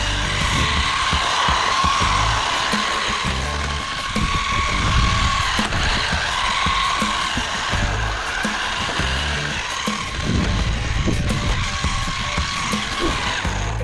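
An SG 1604 RC drift car running, its small electric motor whining steadily with tire scuffs and skids on a hard surface, loud and close throughout, no talk.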